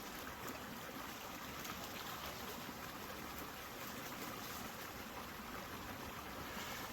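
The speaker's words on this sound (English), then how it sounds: "The creek is high because it's raining a lot and cloudy." A creek swollen by heavy rain rushes steadily past, a dense, even wash of water noise that stays constant and close with no voices.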